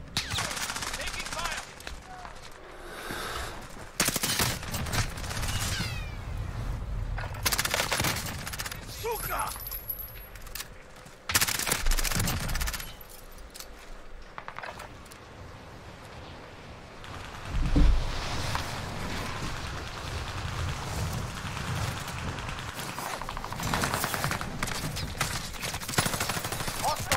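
Call of Duty gunfire fills the scene: dense machine-gun bursts and scattered rifle shots crackle almost nonstop, with brief lulls and one heavy impact amid the battle din.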